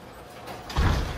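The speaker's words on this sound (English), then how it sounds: "Oh, shut the door." A door is pushed shut indoors, ending in a single low thud near the close after a quiet lead-in.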